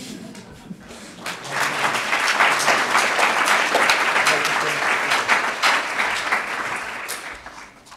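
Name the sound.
applause for PhD graduates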